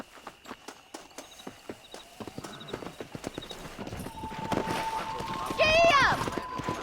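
Horse hooves clip-clopping in the Western video game Red Dead Redemption, a steady rhythmic gallop under ambient game sound, with a horse whinny and voices in the second half.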